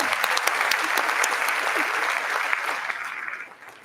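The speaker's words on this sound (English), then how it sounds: "Let's give him a round of applause." Audience applause at a high school senior distinction awards ceremony, a dense, steady clapping from a large crowd that holds for several seconds before tapering off slightly at the end.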